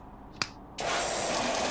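Pressure washer spray in the video game PowerWash Simulator: a brief click, then a loud, steady hissing jet of water that starts abruptly and runs on continuously.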